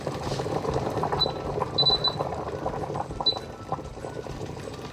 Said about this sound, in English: just let that come back up to the boil and then bring it down to a simmer